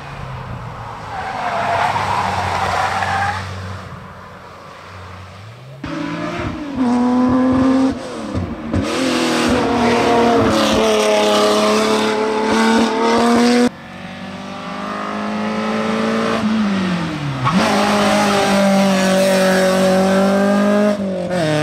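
Race cars climb the Les Revoltes d'Ibi hill climb course during an official practice run in 2021, engines revving and rising through gear changes as they approach and pass close by, loud and sustained with brief lulls between cars.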